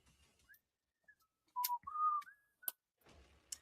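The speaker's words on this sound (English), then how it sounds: "I began to whistle softly" Soft, near human whistling: a few short, wavering pitched notes and a longer sustained tone, separated by quiet gaps and faint clicks, with no talk.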